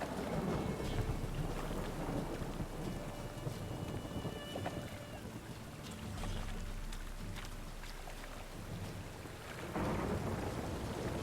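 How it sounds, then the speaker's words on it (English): A thunderstorm in the video game Witcher 3 brings heavy rain hissing steadily and deep thunder rolling low, loud and continuous throughout, with no voices. "A storm, damn it."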